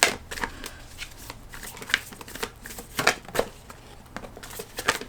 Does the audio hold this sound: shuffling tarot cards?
yes